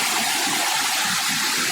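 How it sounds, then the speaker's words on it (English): Iguazu waterfall with water pouring over the edge, a dense, loud, continuous rushing roar heard close up and unbroken, with no speech. "See the water going over."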